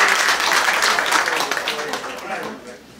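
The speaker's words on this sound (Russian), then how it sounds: "Ну, давайте похлопаем" An audience at a memorial concert breaks into dense, loud applause that carries on steadily, then begins to fade toward the end.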